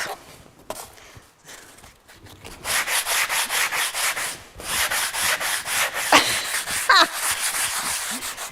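Hand sanding with a worn sanding sponge on hot-glued craft pieces, a steady close scratchy rubbing in rapid back-and-forth strokes, quiet at first and then loud and continuous with short pauses, no talking.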